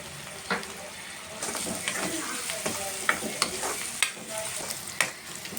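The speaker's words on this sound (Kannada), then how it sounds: "ಇವಾಗ ಸ್ವಲ್ಪ ಅರ್ಶಿನ ಹಾಕೋಬೇಕು ಅರ್ಶನ ಹಾಕ್ಕೊಂಡು ಮಿಕ್ಸ್ ಮಾಡಿ" Turmeric being stirred into a sizzling mango rice tempering in a pan, with steady frying crackle and repeated scraping strokes of the spoon throughout, close and moderately loud, no talking.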